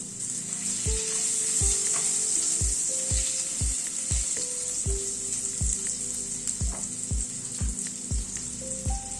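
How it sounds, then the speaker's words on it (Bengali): Potatoes fry in hot oil with a pinch of salt, giving a loud, steady sizzle that runs the whole time, with a regular beat of low knocks from a spatula or utensil under it. "আলু ভাজার মধ্যে একটুখানি নুন দিয়ে দিলাম।"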